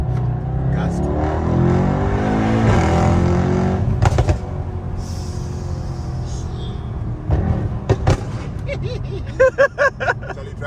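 A tuned Mercedes-Benz E63 S accelerates hard from inside the cabin, its engine roaring loud and steady, with several short sharp bursts toward the end and people talking and shouting over the noise.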